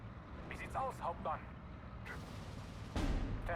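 Counter-battery artillery fires in a World War II strategy game, a few dull booms and a heavier thud near the end over low rumble, with brief chirping effects and a voice talking throughout.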